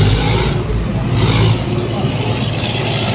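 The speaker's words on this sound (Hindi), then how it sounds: "ये लो जी एक स्टार्ट चेक कर रहे हैं किसान भाई" A tractor engine starts and revs loudly on a farm with a tractor collection, its heavy rumble surging and holding steady close by.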